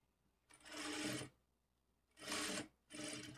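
A domestic sewing machine stitching a plain blouse runs in three short bursts, each a second or less, separated by brief pauses. The whir is close and fairly quiet.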